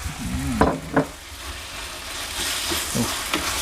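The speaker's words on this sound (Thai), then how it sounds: "เห็ดลงพัดไปสักพักหนึ่งก็ได้ละนะครับ" Mushrooms being stir-fried in a pan for a regional Thai dish, a quiet continuous sizzle with a few sharp scraping stirs of the utensil near the start and later.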